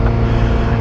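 A Ferrari 348 with an aftermarket muffler drones at a steady, loud engine note, a deep continuous exhaust rumble held without breaks for under a second.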